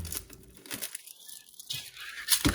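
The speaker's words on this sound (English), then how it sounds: "So you see there's like the papery skin. So you just need to remove that outer layer." Papery outer skin is peeled from a halved shallot by hand: dry, crackling tearing and crinkling sounds come close up and fairly soft in uneven bursts, with no talking.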